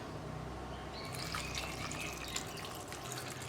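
Water pours steadily into a pan of cucumber and tomato curry, a continuous splashing trickle close by that grows brighter after the first second, with no talking.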